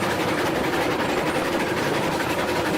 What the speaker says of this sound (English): Can hear the train there.